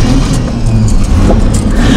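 A pickup truck engine rumbles steadily at close range, with a deep low throb and a slight rise in revs partway through.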